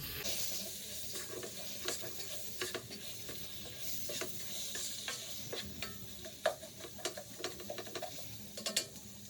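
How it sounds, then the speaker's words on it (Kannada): Masala for mutton liver gravy, with salt added, fries in a pan while a spoon stirs it, giving a soft steady sizzle broken by irregular scraping clinks, close and fairly quiet. "ಇವಾಗ ಇಷ್ಟನ್ನು ಹಾಕಿ ಮಿಕ್ಸ್ ಮಾಡ್ತೀನಿ ಇದು ಚೆನ್ನಾಗಿ ಫ್ರೈ ಆಗಲಿ"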